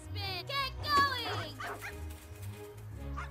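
Dog barks and yips from the dog football video game Gone To The Dogs, a few short yaps in the opening second over steady game music, followed by talk.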